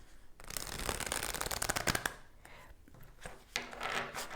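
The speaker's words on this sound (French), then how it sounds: "Je vais tirer une dernière carte" A tarot card is pulled from a deck during a reading, a dense papery rustle and flicking of cards that comes in bursts, close and fairly soft, with faint voice around it.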